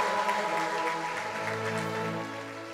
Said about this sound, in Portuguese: O que Jesus merece? Uma salva de palmas.